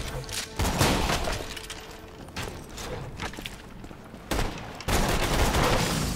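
Shotgun blasts and other weapon fire in the video game Borderlands 2, Tiny Tina's Assault on Dragon Keep, a dense, loud barrage of overlapping shots and booms with several sharp, heavy reports standing out.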